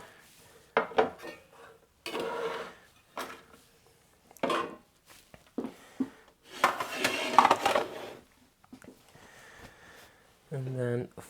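Red chilies are sliced with a knife on a kitchen cutting board, producing short, irregular bursts of cutting and clattering utensil noise with quiet gaps in between.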